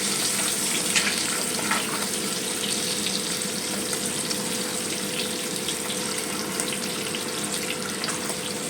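Eggs frying in a pan with turmeric for an egg curry, a steady close sizzle and crackle running evenly without pause.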